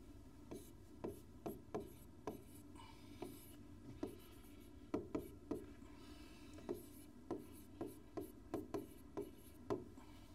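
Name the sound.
writing the unit vector formula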